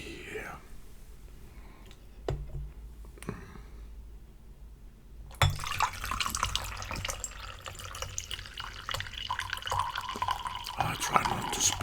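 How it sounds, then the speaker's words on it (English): Tea streams into a cup in a steady close trickle that begins partway through and continues to the end, preceded by quiet handling noises and a couple of sharp taps, with soft whispering in the background. "let's pour in the tea here"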